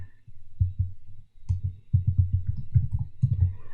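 Computer keyboard typing heard close up as soft, muffled low thumps of keys in quick irregular bursts, with a short pause between runs and no speech.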